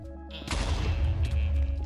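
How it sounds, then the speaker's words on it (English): A sudden loud blast breaks out, then a dense, sustained roar of explosions rumbles on in a chaotic 4v4 Minecraft battle simulator match. "Explosions."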